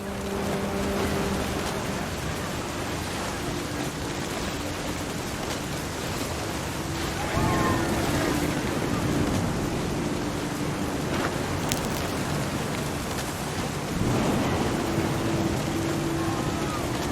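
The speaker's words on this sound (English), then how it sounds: "Thunder sounded much too close and full of angry power." A thunderstorm with steady heavy rain in the video game What Remains of Edith Finch, giving dense continuous rain hiss, with low rumbles swelling up at a couple of points, and a faint tone lingering beneath.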